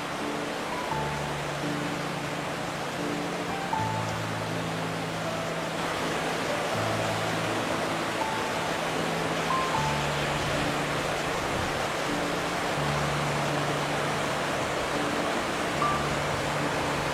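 Cascade de la Fouge, a waterfall over 60 m high in an enclosed valley, gives a constant dense roar of falling water that stays steady throughout, with faint low rumbling beneath.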